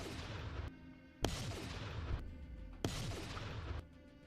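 A fusion cannon fires in a VR video game: three heavy booming blasts about 1.5 seconds apart, each with a rumbling tail, over a constant game soundscape.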